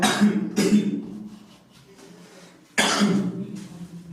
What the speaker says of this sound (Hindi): जुकाम लग रही है इसलिए थोड़ी सी खांसी हो रही है